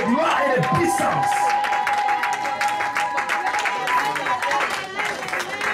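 Church congregation loudly applauding and cheering for the king of glory, dense clapping and crowd cheers throughout, with voices mixed in.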